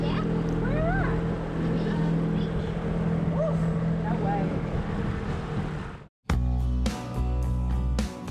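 An outboard motor pushes a dinghy toward a beach, droning steadily under rushing wind and water noise; bird chirps appear briefly, then a sharp break gives way to choppy, bumpy engine and splash sounds.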